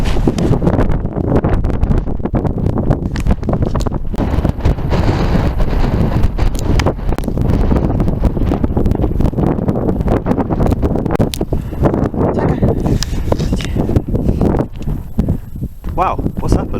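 Strong wind buffets the microphone on a Peak District hike at Ladybower, a steady loud roaring rumble with gusty crackles and rustling throughout, with brief voices underneath.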